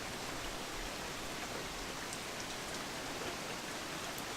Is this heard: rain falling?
yes